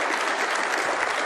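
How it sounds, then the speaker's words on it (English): A short burst of warm applause from the audience at the World Snooker Championship, a dense, even clapping heard close and loud for just over a second with no voices over it. "Listen to the applause."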